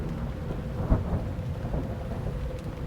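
Steady rain falls on surfaces with a low rumble of thunder rolling underneath, one brief louder crack near the start, the whole storm moderate and continuous with no voices.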